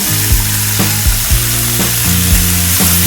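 Winged bean curry with onion and tomato frying in a pan, a loud continuous sizzle with repeated scraping stirs against the pan, no voices.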